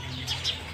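A house sparrow near its nest inside a home gives two quick, faint high chirps over a low background hum.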